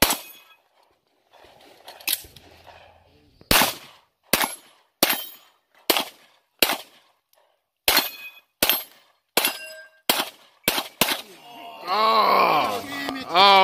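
A Glock 17 and an M&P Pro 9mm pistol fire at steel targets outdoors: about a dozen sharp, loud shots spaced roughly half a second to a second apart, each with a ringing metallic ping, and a voice is heard at the end.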